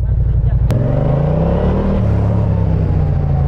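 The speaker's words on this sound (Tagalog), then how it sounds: "tatry na natin yung motor natin, bagong tune." A Yamaha MT-07 motorcycle with a new ECU tune rumbles loudly close by, its engine note rising and then settling as it pulls away.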